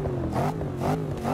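A Range Rover Sport SVR engine in Forza 6 revving in repeated rising and falling surges, a steady tonal engine drone swelling and easing over a short span.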